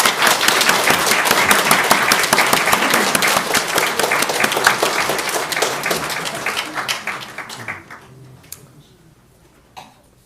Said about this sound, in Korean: 건강하시라고 환영의 박수.